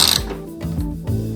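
A ratchet wrench with a 10 mm socket turns a bolt on a Toyota MR2 Spyder (ZZW30), a few quick ratcheting clicks at close range, with no talk.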